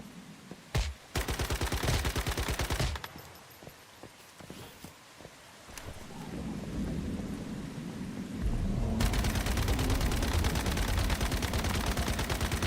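Gunfire in the online survival shooter Once Human, with bursts of rapid automatic shots near the start, scattered single shots in the middle and a dense, sustained volley of fire toward the end, with no talk.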